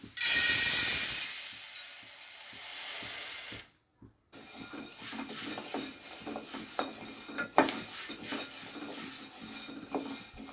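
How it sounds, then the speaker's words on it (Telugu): A quarter kilo of horse gram dry roasting in a pan, dry seeds rattling and scraping under stirring, with a loud hiss at first, a brief drop to near silence, then uneven clattering and scratching. "పావు కిలో ఉంటాయి ఉలవల్లి వేయించుకుంటున్నా"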